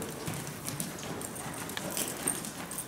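Horse hooves clip-clop steadily during a riding lesson, a soft, fairly distant patter of steps under general outdoor background noise, with no talk in this moment.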